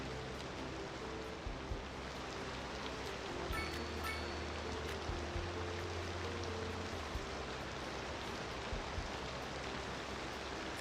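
Steady, even rain hiss in the city-building game Cities: Skylines II, heard alone with no talk, with a constant low rumble underneath.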